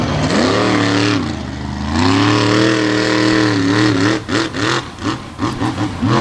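A Bounty Hunter monster truck engine roars at a monster truck show, climbing to a loud, sustained rev with shifting pitch, then breaking into choppy bursts of throttle as the driver gets on the power.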